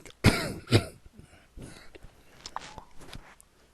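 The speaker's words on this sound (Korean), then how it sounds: "기침이 너무 나요." Two sharp, close coughs from a man in quick succession, followed by softer throat noises and small rustles in a quiet room.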